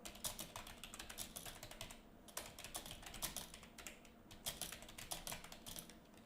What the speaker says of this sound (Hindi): उसके बाद हमको एक टेक्स्ट टाइप करना है। आप कुछ भी टेक्स्ट टाइप कर सकते हो।